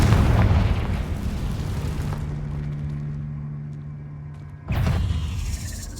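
A Confringo blasting spell explodes in Hogwarts Legacy, a loud rumbling boom that decays into a low humming tail before a second burst erupts near the end.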